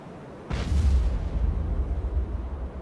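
A deep underwater explosion picked up on submarine sonar in the Cold Waters naval game, with a sharp onset followed by a long rumbling, churning low boom that keeps rolling for a few seconds.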